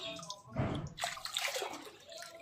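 Water is poured over a child being bathed, arriving in splashing, gurgling bursts at close range over a couple of seconds.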